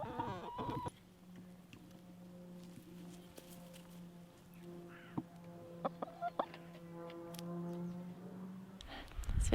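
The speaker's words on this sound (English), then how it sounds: "here's the chicks." Small chicks and hens in a backyard coop give soft, scattered clucks and peeps against a steady low hum, with a few sharper calls near the end.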